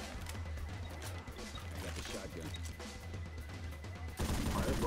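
Gunfire in the zombie shooter Left 4 Dead 2, a dense steady stream of shots and game noise running throughout at close range, with a louder burst near the end.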